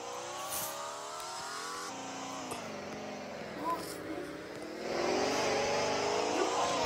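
In a sprint car racing video game, an engine revs with a whining pitch that rises and falls over several seconds, then grows louder near the end, with a voice heard at times.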